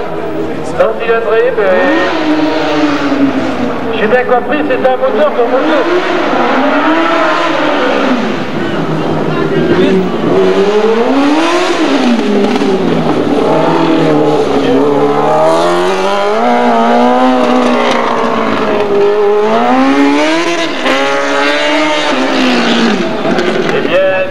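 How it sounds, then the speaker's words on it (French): A rally car fitted with a motorcycle engine, revving loudly and continuously in rising and falling waves close by, with people talking over it. "C'est un moteur de moto, c'est ça Eh oui, c'est un moteur de moto."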